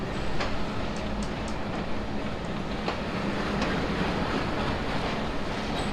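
The Nakshi Kantha commuter train runs on its rails with a loud, steady broadband rumble and roar, marked by faint intermittent clicks and ticks over six seconds.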